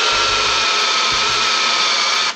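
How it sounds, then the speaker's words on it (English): A hand-held electric drill bores into metal, giving a loud, continuous high whine, with a couple of low thumping pulses underneath. "Okay, you hear the drill?"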